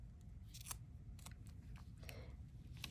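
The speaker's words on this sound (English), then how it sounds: "I'm going to use my scissors to cut this." Scissors snip through sticky adhesive-backed paper in a handful of quick, crisp cuts, close and fairly quiet against a soft low background hum.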